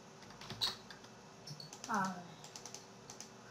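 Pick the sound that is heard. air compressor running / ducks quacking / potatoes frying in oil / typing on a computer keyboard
typing on a computer keyboard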